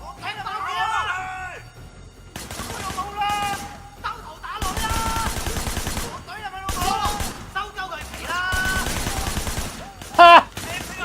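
Gunfire in the open-world action game Sleeping Dogs, rapid bursts of shots and crashing impacts layered with game music and voices throughout, with one sharp loud report near the end.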